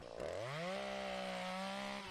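A chainsaw used for chainsaw carving roars steadily at close range, its engine pitch climbing sharply at first and then holding a sustained, buzzing drone before easing slightly at the end.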